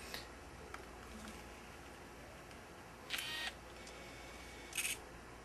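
Kodak EasyShare compact digital camera being switched on, two short electronic chirps about two seconds apart, close but quiet against a faint background hiss.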